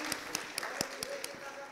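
An audience at an evening relationship talk event claps in a faint, steady rhythm, with about six evenly spaced claps standing out over a low room background.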